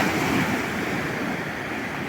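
Steady roar of sea waves washing onto a beach, loud and continuous with breezy wind noise mixed in, no voices heard.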